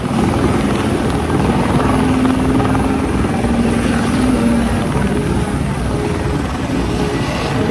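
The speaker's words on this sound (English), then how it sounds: "It's not every day you see a helicopter make an emergency landing near a cafe." A helicopter making an emergency landing near a cafe, its loud continuous rotor and engine roar holding steady and close for the whole stretch, with no speech.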